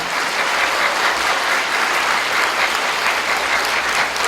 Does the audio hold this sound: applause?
yes